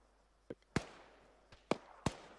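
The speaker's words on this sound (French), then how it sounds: "C'est quoi, c'est tir de mortier ça?" Mortar and weapons fire in the video game ARMA 3: four or five sharp, distant booming reports at irregular intervals, fairly faint against a quiet background with no talk.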